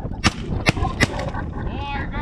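Shotguns fire at geese during a goose hunt outdoors, with three sharp, loud blasts in quick succession over a rough background of wind and field noise, and hunters' voices around them.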